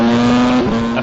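A two-seat F1x2 Formula One car screams past at over 300 km/h on the main straight at Yas Marina Circuit, a loud sustained high engine whine that shifts pitch briefly as it goes by, with no talk.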